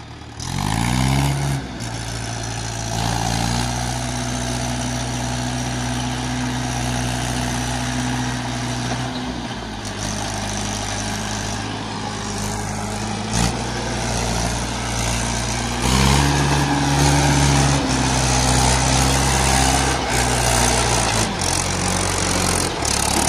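A Mahindra 575 tractor engine labors while pulling an overloaded trailer, a loud, steady diesel drone with deep rumbling that shifts in pitch as the load strains, close and continuous throughout.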